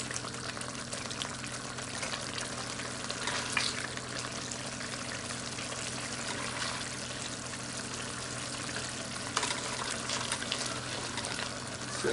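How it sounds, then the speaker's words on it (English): Curry sauce splashes and trickles as it is poured and split between two pans, a soft continuous liquid rustle with faint sizzling from the heated pans and no talking. "I'm going to split this juice, this curry sauce, into two."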